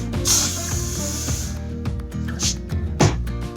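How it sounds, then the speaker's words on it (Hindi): L'Oreal hair setting spray hisses onto hair in a few short bursts, close and fairly loud, over soft background music with handling noises between sprays. "उसके बाद आप कोई भी हेयर सेटिंग स्प्रे ले सकते हैं।"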